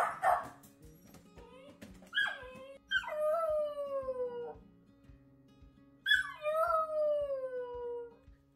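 An eight-week-old puppy in a crate howls and whines in long, drawn-out falling cries, several in a row with short gaps, with soft background rattling.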